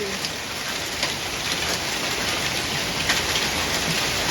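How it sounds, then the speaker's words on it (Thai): Heavy rain pours down with hail, small ice pellets hitting and bouncing around a house, making a dense, loud, unbroken hiss with scattered sharper ticks throughout. "นี่คือเม็ดลูกเห็บนะคะที่หล่นลงมานะคะ"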